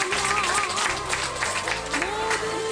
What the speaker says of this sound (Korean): 왜 여기는 박수가 제일 커요?